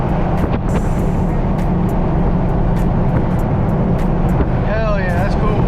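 An LS-swapped Jeep with a slightly burnt clutch accelerates hard, a loud, steady close-up engine and road roar filling the cabin for the whole stretch.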